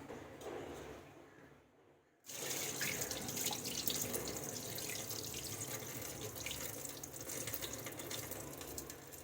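Excess water being poured off soaked wheat while making wheat chik for papad, splashing steadily, fairly quiet, after a brief hush; a soft continuous gush with no talking.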